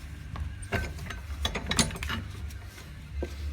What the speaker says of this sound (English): we're just gonna take the vise, tighten it, just drive it down